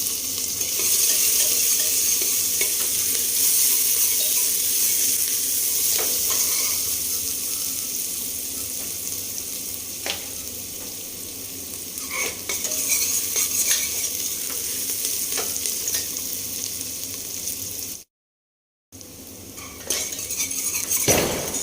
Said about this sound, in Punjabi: ਹੁਣ ਚੰਗੀ ਤਰ੍ਹਾਂ ਲਸਣ ਪਿਆਜ਼ ਇਹ ਸਾਰਾ ਭੁੰਨਿਆ ਗਿਆ